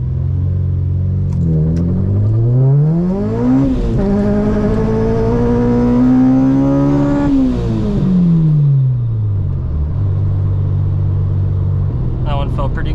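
Supercharged Acura RSX (Kraftwerks, about 350 wheel horsepower) launching hard through the gears on a 0-60 mph run, loud close engine note climbing steeply, dropping at each shift, then settling back to idle.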